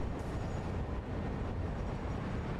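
A train pulls in within the video game Satisfactory, a steady low rumble with heavy rolling noise that holds at an even level without any voices.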